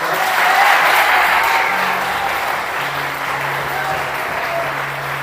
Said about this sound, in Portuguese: Então vamos aplaudir o Senhor com força